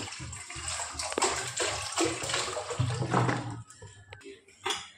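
Water pours steadily into a cooking pot on a stove, a continuous close splashing and gushing that thins out near the end, followed by a brief clatter.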